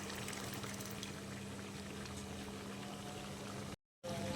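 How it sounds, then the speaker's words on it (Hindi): Thick onion, tomato and green chili paste goes into a pan of spicy chicken masala, giving a steady wet sizzling bubble with a low hum, cut by a brief gap near the end. "प्याज, टमाटर और सब्ज़ मिर्च का जो पेस्ट बनाया था वो मैं इसमें डाल दूँगी।"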